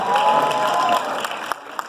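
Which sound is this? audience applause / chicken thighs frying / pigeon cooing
audience applause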